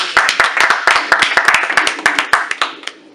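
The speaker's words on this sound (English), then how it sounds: "Let's go ahead and clap it up." A few people in a radio show studio clap, sharp close hand claps in a quick uneven run that thins out and stops after about three seconds.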